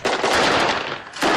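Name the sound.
gunfire exchange on the front line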